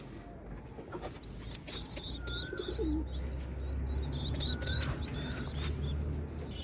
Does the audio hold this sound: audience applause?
no